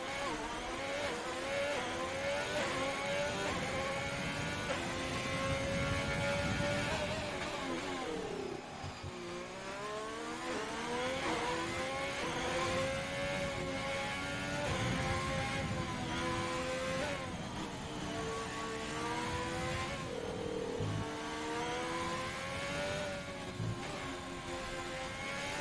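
Formula 1 race car in a racing game at the Vietnamese Grand Prix, with a high whining engine shifting down and revving as it slows into a hairpin, then pulling away again, loud and continuous.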